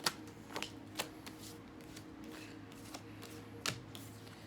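Tarot cards being shuffled and drawn, with several quiet, crisp riffling flurries and soft slaps spaced irregularly over faint room hiss.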